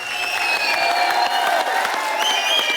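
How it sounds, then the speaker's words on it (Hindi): Studio audience on a comedy talk show applauds John and Mouni, steady clapping mixed with crowd noise and cheering throughout, with strong tonal music layered over it. "एक बार जॉन और मोनी के लिए जोरदार तालियां।"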